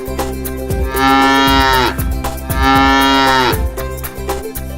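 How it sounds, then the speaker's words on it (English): Cattle mooing in two long, loud lowing calls, each rising and then falling away, over a steady musical backing track in a children's farm-animal nursery rhyme. "The cow says moo moo."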